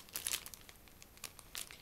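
A small mail packet crinkles in short, quiet bursts close by, a few separate rustling crackles with pauses between them and no talking.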